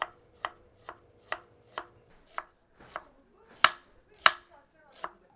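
Four medium peeled onions are sliced thin with a knife on a board, giving about ten crisp, evenly spaced chops close by, with no talk.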